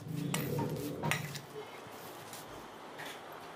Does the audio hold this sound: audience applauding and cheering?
no